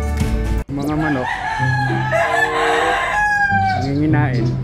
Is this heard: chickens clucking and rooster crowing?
yes